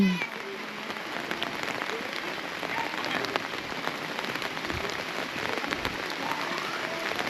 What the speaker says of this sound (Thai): แบบฝนตกแบบนี้